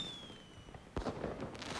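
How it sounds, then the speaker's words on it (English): Fireworks burst in the Love and Deepspace video game, a sharp bang followed by crackling, scattered pops over a steady background hum, with a thin falling whistle before the blast. "Fireworks paint the darkness with brilliant, fleeting light."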